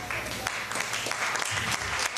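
A comedy club audience claps briefly to cast a vote, a dense, fairly close patter of hands that stays steady for a couple of seconds.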